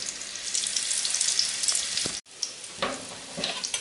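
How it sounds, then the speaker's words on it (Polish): Steady crackling sizzle of potato croquettes filled with meat and mushrooms frying in hot fat, close and continuous, with a brief break and a few light clinks. "Tak to wygląda i smażymy z jednej i z drugiej strony."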